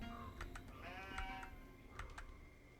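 Sheep bleat in a video game, several short cries rising above a steady ambient game backdrop, spaced through the stretch with a cluster near the middle and another pair toward the end.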